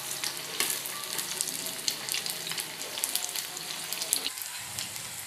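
Baby corn fries in a pan with a continuous close sizzle, broken by scraping and clacking bursts as the pieces are stirred and turned, the sizzle dipping briefly near the end.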